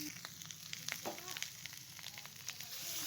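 Ground cumin, ginger, chilli and tomato masala with green chillies fries in a pan, a quiet, steady sizzle broken by faint scrapes and small pops.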